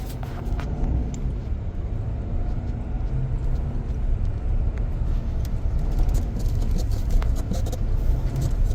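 A truck drives along a rough forest trail in Manistee National Forest toward the trailhead exit, its engine a steady, loud, close rumble with bumps and rattles throughout.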